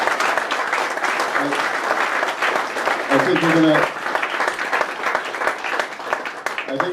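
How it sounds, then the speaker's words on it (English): An audience bursts into sustained, dense applause for a guest named Brandy, the clapping steady and full throughout, with a voice briefly audible over it. "why don't we give Brandy a huge round of applause"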